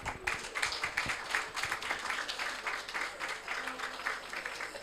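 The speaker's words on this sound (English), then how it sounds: "I guess if you would like to join me in a round of applause to our panelists" An audience applauds panelists after a conference discussion on development banking, a moderate, steady patter of clapping hands from a modest crowd, fairly quiet and continuous.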